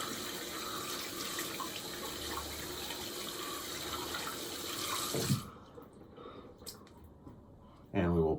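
A shaving brush is rinsed of its lather under a running tap, a steady broadband rush of water for about five seconds, then quieter handling and a brief return of flowing water at the end.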